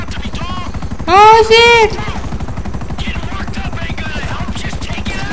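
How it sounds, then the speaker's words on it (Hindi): A helicopter in the video game GTA 5 makes a steady rhythmic rotor chop throughout, loud and continuous, while someone talks briefly over it. "या कहाँ पर है यार हेलीकॉप्टर?"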